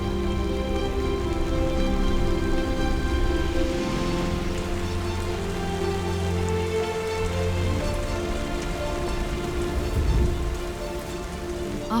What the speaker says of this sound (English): After weeks of dry air and heat, the heavy rains are a blessing.